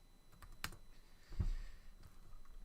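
A computer keyboard is typed on, giving a few quiet, scattered key clicks and one dull thump in an otherwise calm room.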